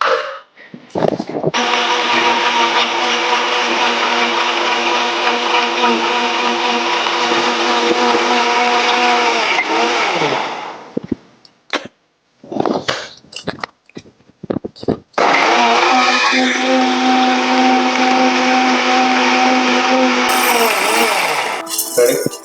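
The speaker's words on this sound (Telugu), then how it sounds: "ఆనియన్స్ పచ్చిమిర్చి కూడా ఇందులోనే వేసుకోండి ఒక ఐదు ఆరు దీన్ని మెత్తగా పేస్ట్ చేసుకుందాం" An electric mixer grinder whirs loudly as it blends onions and five or six green chillies into a paste, running in two long bursts separated by a short stretch of rattling and knocks.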